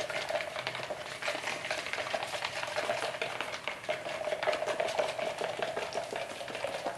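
A chopstick stirring a pourable sand-laden coating mixture for a 1947 Ford truck fender, with rapid scraping and clicking against the container in a steady, moderately close rhythm.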